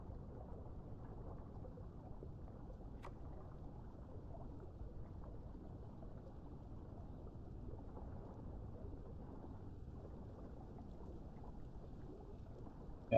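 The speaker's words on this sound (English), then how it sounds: "Oh, and I can definitely hear the rain again." Steady rain falls in the video game Path of Titans, a continuous even hiss with a low rumbling wash that holds at a constant level throughout, with no voices.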